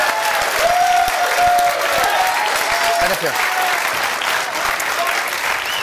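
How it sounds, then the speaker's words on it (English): Studio audience at a game show breaks into sustained, loud applause and cheering, a dense wash of clapping lasting throughout while a host speaks briefly over it. "Give him a round of applause."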